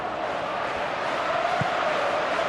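Stadium crowd in the football game PES 2016, a steady roaring wall of fans chanting and murmuring at a constant level, with a faint thump partway through.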